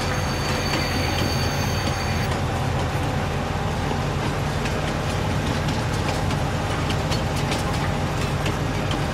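A train rushing past in the farming game Farming Simulator 19, a loud, dense, continuous rumble of rolling wagons with metallic wheel squeal and rattling clicks, steady throughout with no voices.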